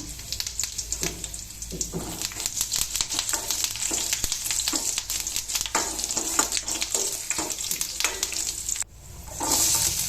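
Mustard seeds, green chillies and curry leaves crackle and sizzle loudly in hot oil for a tempering, a dense close spattering with some stirring that briefly drops away near the end.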